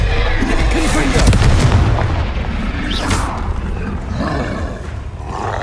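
A loud, booming Confringo spell blast from the video game Hogwarts Legacy, a heavy roaring explosion with a rumbling low tail that fills the whole moment amid ongoing combat noise.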